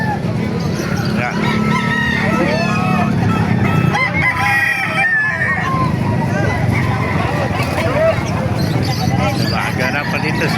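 Several roosters crow loudly over and over amid a busy din of clucking fowl and people talking nearby at a chicken market in Calumpit, Bulacan.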